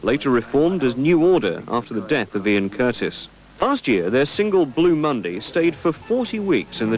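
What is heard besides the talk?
No everyday noise stands out behind the speech.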